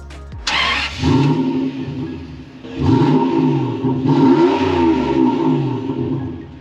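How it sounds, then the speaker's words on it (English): A V12 car engine starts with a sharp burst, then idles and revs in steady swells, its deep exhaust note droning close by with no talking. "This one has a little exhaust on it so you can kind of hear a note."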